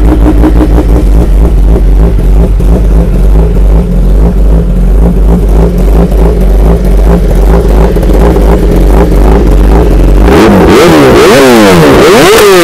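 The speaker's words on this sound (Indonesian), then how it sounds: "AR Racing adjust untuk ZX10. Bunyi dia macam mana." A Kawasaki ZX10 motorcycle fitted with an AR Racing exhaust idles with a loud, throbbing pulse, then its engine is blipped into a sharp, rising and falling rev near the end, very close and loud with no talking.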